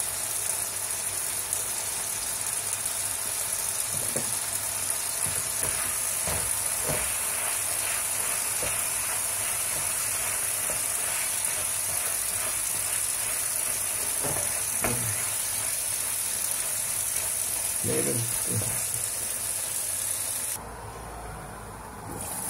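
Shrimp sizzle steadily in a hot pan, a constant bright hiss with occasional clinks and pops, then the sizzling cuts off near the end.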